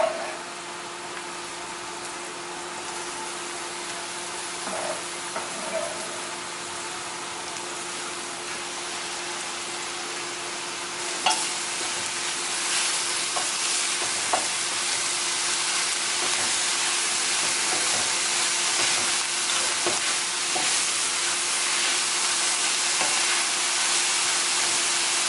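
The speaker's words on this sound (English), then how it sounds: "I'm adding my collard greens." Collard greens hiss and sizzle steadily in a hot pan while being stirred, with a few soft clinks and scrapes breaking through the continuous frying noise.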